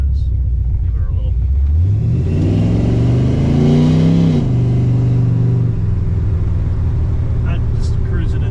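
A 340 V8 in a Plymouth Duster with a manual reverse valve body rumbles and then accelerates, its pitch climbing over a few seconds before settling back to a steady cruise rumble, close and loud.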